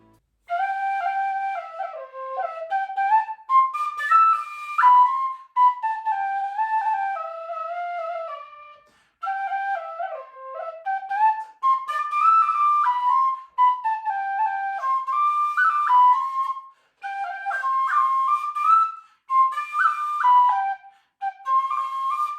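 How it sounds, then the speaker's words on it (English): A Clarke tin whistle plays a lively melody alone, bright and clear, with quick runs and short pauses between phrases. "the Clarke whistle"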